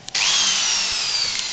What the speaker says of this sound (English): Now the drill in your hole saw just fits in the center of that, and you drill down like Ronan will show to us just now.